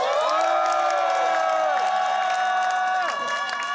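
A large outdoor political rally crowd in front of the Independence Hall cheers and applauds loudly, a dense sustained roar of shouts and clapping with a few whoops.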